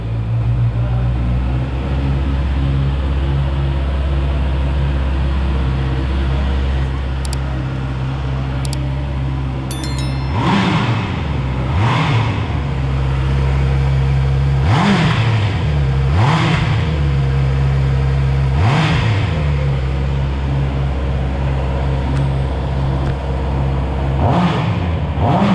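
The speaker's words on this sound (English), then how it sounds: "Let me turn on the bike and let's hear the exhaust note." A 2021 Honda CB650R inline-four motorcycle idles steadily, then its engine is revved in several sharp, rising blips, the exhaust note climbing and falling back to idle each time, loud and close with no talking.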